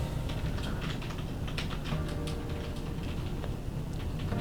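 Someone types rapidly on a GX50 gaming membrane keyboard, producing a dense, continuous patter of close keystrokes with no speech.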